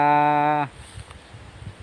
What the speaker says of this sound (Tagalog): Yan po ay aming kalabaw, sisilong ko po.